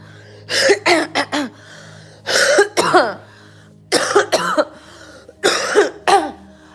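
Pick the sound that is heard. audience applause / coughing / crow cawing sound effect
coughing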